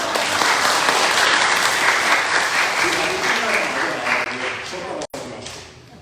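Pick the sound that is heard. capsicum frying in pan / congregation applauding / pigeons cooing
congregation applauding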